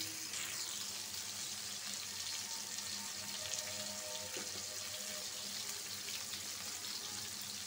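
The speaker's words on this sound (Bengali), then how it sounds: "মাছটা ভাজা হোক।" Fish fries in a kadai, a constant hissing sizzle that fills the background evenly and quietly for several seconds, with an occasional faint pop or clink and no talking.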